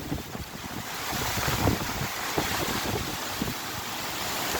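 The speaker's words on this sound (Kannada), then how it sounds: "ಮಳೆ ಬಂದ್ರೆ ಇಷ್ಟು ಗಾಳಿ" Strong wind from a dust storm sweeps across an open industrial cricket ground in Sira, a constant roaring rush with gusting low buffets against the microphone.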